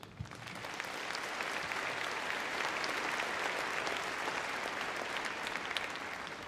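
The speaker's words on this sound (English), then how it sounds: "Probably deserves a little round of applause." Arena crowd at Crufts 2012 applauding an RAF display team, a fairly faint but steady round of clapping from a large audience that holds evenly throughout.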